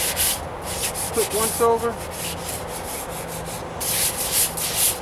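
Paint on the trunk of a 1998 Toyota Corolla is sanded by hand with 600 grit sandpaper in quick rhythmic back-and-forth strokes, close and steady, while someone speaks briefly over it.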